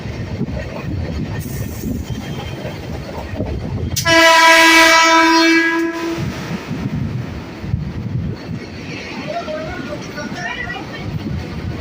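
A suburban train pulls out of Melbira station on the Eastern Railway line toward Agarpara, its long loud horn blasting for about two seconds over steady rumbling wheels and wind, with a voice speaking over it.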